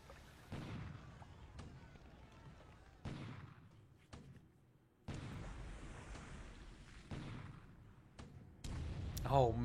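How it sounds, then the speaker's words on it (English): A 5-inch naval gun fires shell after shell, with heavy booms and impacts landing at irregular intervals over about ten seconds, some sharp and loud, others duller and more distant. "That 5-inch gun just can't miss, huh? More shell hits into these guys."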